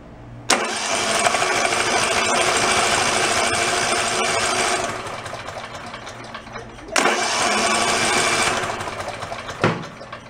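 The engine of a DR field and brush mower, abandoned for 11 years, cranks over on a jumper pack in two long, loud, churning bursts of a few seconds each, separated by a short pause.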